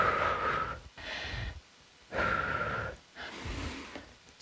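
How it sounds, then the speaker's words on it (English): Deep, heavy breaths during a total body conditioning workout, alternating long inhales and exhales in a slow rhythm of about four breath bursts, close and fairly loud with short pauses between. "Inhale, exhale."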